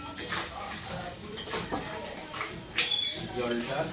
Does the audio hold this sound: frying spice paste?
yes